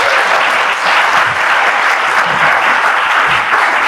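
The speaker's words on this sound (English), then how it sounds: "Let's give them a round of applause." Audience applause for candidates at a Chamber of Commerce candidates forum: loud, dense, steady clapping from a crowd, sustained evenly for the whole stretch without talk.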